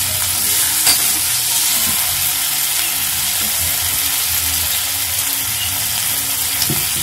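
Chinese noodles fry in a pan while chili, tomato and soya sauces are added. A loud, steady sizzle fills the whole stretch, with occasional soft stirring clicks and no voices.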